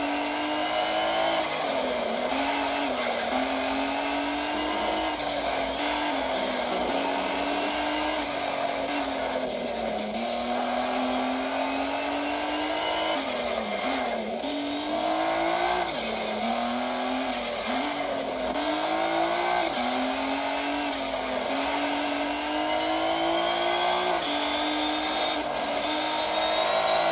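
Race car in Need for Speed Shift 2 Unleashed, engine screaming loud and close as it revs hard through repeated gear shifts, pitch climbing and dropping in a steady cycle, with occasional tire squeal.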